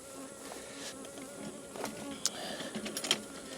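Honey bees buzz around an open hive while two colonies are combined into beetle-infested boxes, a steady close droning hum with a few louder passes and faint clicks, no talking.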